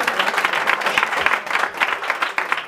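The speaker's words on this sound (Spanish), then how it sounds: "Un aplauso bien fuerte, bien lindo para ella." A crowd applauds steadily at a quinceañera with a mariachi band, a dense wash of clapping hands that holds at a lively level without letting up.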